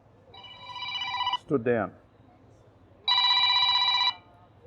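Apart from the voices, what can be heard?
telephone ringing, incoming call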